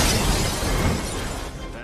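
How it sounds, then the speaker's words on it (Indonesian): Glass shattering in a scene from the film X-Men: The Last Stand, a loud, dense burst of breaking glass and debris that fills the whole moment with no quiet gaps. "Bahkan kaca pecah dan Magneto pun terlempar"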